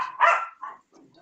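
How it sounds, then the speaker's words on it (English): A dog barks close by, two sharp barks followed by a softer, fainter whine or grumble trailing off, with no talk. "So let me see if I can get the dog."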